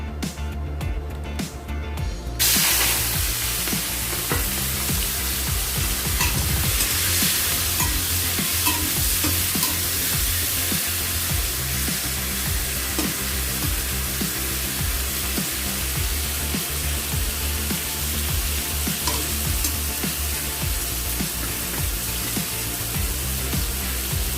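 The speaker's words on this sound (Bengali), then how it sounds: "তেল গরম হয়ে গেছে চিংড়ি মাছগুলো আবার ভেজে নেব" Prawns frying in hot oil in a wok: a loud, continuous sizzle and crackle that starts abruptly after a brief quieter moment and holds steady throughout, with faint stirring noises beneath.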